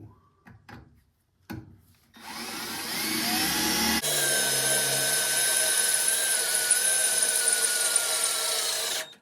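A Honda K24 engine in an EK chassis fires up after a few brief bumps and settles into a steady, loud idle with a constant mechanical whine and hum, close by and without talk.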